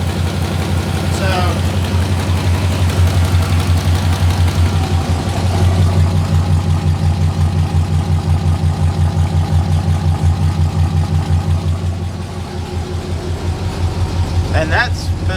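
A 6.0L LS V8 swapped into a Chevrolet S10 idles steadily and loudly for the whole stretch, with a deep, even rumble and brief voices now and then over the engine.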